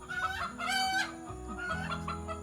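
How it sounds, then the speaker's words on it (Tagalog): Chickens clucking with a rooster crowing clearly in the middle, close and fairly loud, in an outdoor setting in Bali, with no voices. "Ang mga manok daw."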